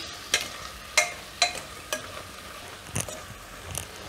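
Guvar beans and potato curry with spices frying in oil, stirred with a spoon: a steady low sizzle broken by about eight sharp scraping clinks against the pan at irregular intervals, close and clear, with no talking.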